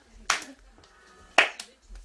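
A child's hands clapping twice, slowly and spaced apart, close by in a quiet home, with faint background murmur between the claps.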